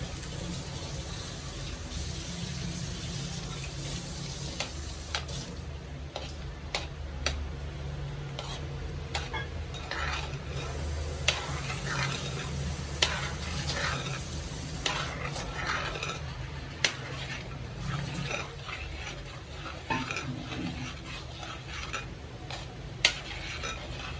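A spoon steadily stirs thick yogurt curry with curry leaves in a pan, giving a soft continuous scraping and light sizzle with scattered small clicks against the pan, and no talking.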